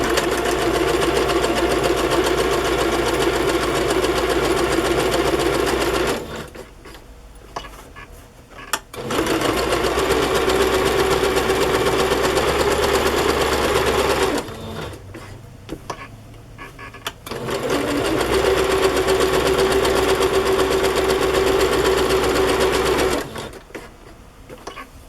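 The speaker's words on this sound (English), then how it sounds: "So I'm just going to stitch around the edges." Close sewing machine stitching around the edges of a paper envelope page for a handmade journal, three long runs of steady rapid rattling separated by pauses with small handling clicks.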